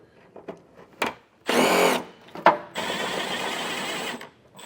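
A power tool with a 14mm socket removes plastic nuts during a trailer hitch installation on a 2024 Hyundai Tucson: a short whirring burst, then a longer steady run, with clicks and handling noises between them.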